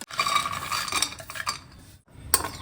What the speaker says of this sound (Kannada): ಕಡಾಯಿ ಬಿಸಿಗೆ ಇಟ್ಕೊಂಡಿದ್ದೀನಿ ಇದನ್ನು ಹಾಕಿ ಹುರ್ಕೋಬೇಕು